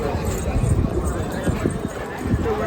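Bullocks practise before a bullock cart race, their hooves drumming in a rapid, rough clatter amid dense outdoor noise and voices talking nearby.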